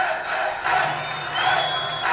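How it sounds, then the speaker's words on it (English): Crowd noise samples fired from a DJ controller bank set up for a hardcore mix, a steady roar of cheering with swells that rise and ease back every second or so, fairly loud, with no talk over it. "Now what I've got is I've got some crowd noises loaded up here"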